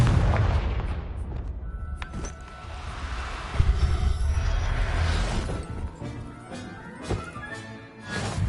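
Confringo blasting spell going off in Hogwarts Legacy, a dense run of booming fiery explosions with sharp cracks at about two, three and a half and seven seconds over continuous loud rumbling battle noise.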